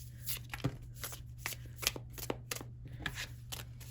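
Reclaim Oracle cards shuffled by hand in a quiet room, a run of crisp riffling bursts and soft card slaps at an uneven rhythm, close and moderately loud over a steady low hum.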